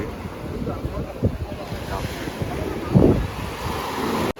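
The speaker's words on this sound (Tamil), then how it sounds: "கடல் ஃபஸ்ட்டு வந்து கொஞ்சம் கீழே இருந்துச்சு இப்போ டைம் ஆக ஆக மார்னிங் ஆக ஆக ஆக கொஞ்சம் அலை வந்து மேலே வந்துக்கிட்டு இருக்கு" Ocean waves rising on the shore at Kanyakumari in the early morning: steady surf wash with wind buffeting the microphone and a swell of breaking water near the end.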